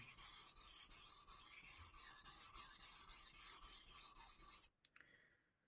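Petty knife sharpened at a 22-degree angle on a King 1000/6000 combination whetstone: a loud, steady train of rhythmic rasping strokes, each a few tenths of a second, that stops abruptly near the end, leaving only a few faint scrapes.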